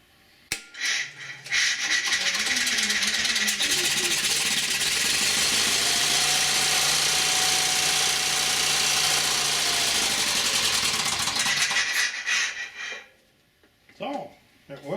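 A small engine is choked, then cranked and fired using a Noco lithium jump battery; after a few loud cranking bursts it catches and runs steadily at a loud, close, constant idle for about ten seconds before shutting off.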